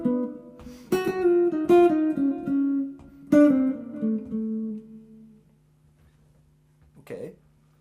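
Jazz guitar plays a short rhythmic phrase over the B part of a tune, with clean plucked notes and chord stabs in a few bursts that ring and fade into near silence before a brief final sound.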